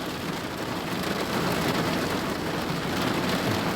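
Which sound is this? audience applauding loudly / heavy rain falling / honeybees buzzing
heavy rain falling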